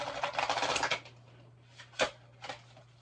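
A deck of cards is riffled in a quick fluttering burst, followed by a few soft taps and shuffles, close and quiet.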